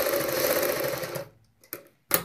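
Sewing machine stitching salwar bottom fabric in a circular design, a steady close whirring run that stops abruptly, followed by two short bursts of stitching.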